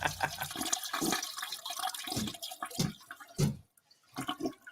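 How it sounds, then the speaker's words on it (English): A long toilet flush rushes and gurgles close by in a small room, with bursts of water swirling through the bowl over several seconds before it thins out and stops. "That's a long ass toilet flush."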